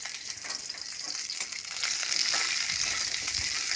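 Young hog plums frying in oil with five-spice seeds (panch phoron) while being stirred, giving a steady, fairly loud broadband sizzle that swells slightly halfway through, with faint stirring scrapes and no talking.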